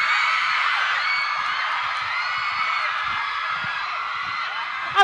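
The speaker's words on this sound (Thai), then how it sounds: "พูดอะไรนิดอะไรหน่อยนี่เสียงกรี๊ดตลอดเลย" A live crowd at a Robinson department store celebrity event screams and whoops continuously, a dense, loud wall of high-pitched shrieking with no pauses and a sharp burst at the very end.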